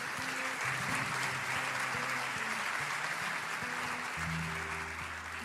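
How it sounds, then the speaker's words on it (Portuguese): A church congregation breaks into steady applause, a broad wash of clapping filling the room while sustained low musical tones play underneath throughout. "aplauda o Senhor, dê glória a Deus."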